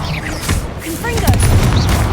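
A Confringo fire spell blasts in Hogwarts Legacy, with booming, crackling bursts during a busy combat scene as layered impacts and a sharp whoosh ring out amid game noise and a voice.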